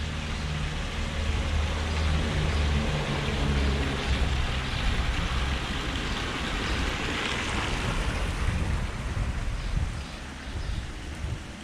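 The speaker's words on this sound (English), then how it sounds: "And a nice little water feature down here." A small fountain water feature in a village square in Mallorca splashes continuously, a steady wash of falling water heard fairly close with no talk.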